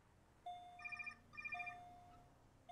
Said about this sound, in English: Minus that ringtone.